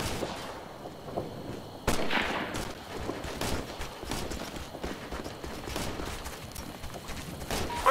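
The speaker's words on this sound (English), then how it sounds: "We're taking heavy fire." Heavy gunfire in the Operation Flashpoint Red River video game, with sharp irregular shots and rattling bursts of varying distance cracking over a low battlefield rumble, no voices.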